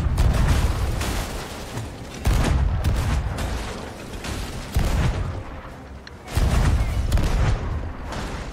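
Ship cannons fire in the video game Sea of Thieves, with loud, heavy booms every couple of seconds and rumbling noise trailing between the shots.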